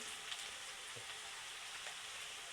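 Ginger-garlic paste and onions frying in a pan for a spicy chicken masala, a steady soft sizzle throughout with faint stirring scrapes, close and even, no voices.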